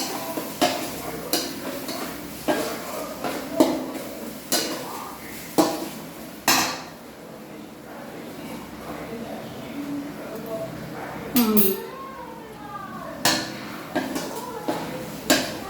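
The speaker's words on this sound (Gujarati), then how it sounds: "હવે એને પાંચ મિનિટ હલાવી અને ટાંકી દઈશું" A spoon scrapes and knocks against a pot as food is stirred, in irregular clinks and taps spread through the whole stretch, fairly close.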